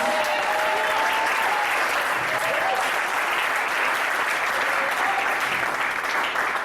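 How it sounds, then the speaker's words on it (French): A church congregation claps in loud, continuous applause that fills the room evenly, with faint voices mixed into the clapping. "Acclame Jésus"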